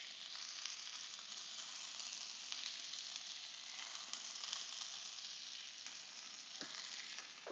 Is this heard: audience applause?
no